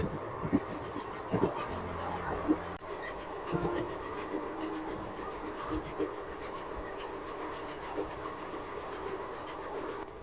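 Kanchanjunga Express running on the rails between Burdwan and Bolpur Shantiniketan, a faint, steady rolling hum of the train with soft intermittent clacks and a sharp rattling burst early on.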